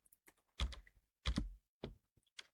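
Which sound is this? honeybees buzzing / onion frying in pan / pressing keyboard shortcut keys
pressing keyboard shortcut keys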